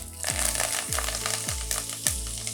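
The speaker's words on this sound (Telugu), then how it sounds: "ముందుగా ఆయిల్లో అయితే వేసేసుకున్నాము కరివేపాకు" Curry leaves frying in hot oil in a pan, a steady crackling sizzle that fills the whole stretch, close and loud, with no voices.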